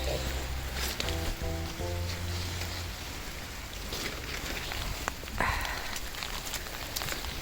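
Rain falls outside at a horse stable as a soft, steady hiss of drops, faint and continuous, with a low hum beneath it.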